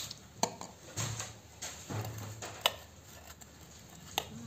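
Red gel food colour being mixed into cream for an eggless homemade cake: several sharp clinks and scrapes of a utensil against a bowl, irregularly spaced, close and fairly quiet, with no talking.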